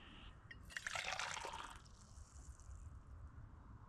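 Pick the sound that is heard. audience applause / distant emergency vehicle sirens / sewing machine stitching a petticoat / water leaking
water leaking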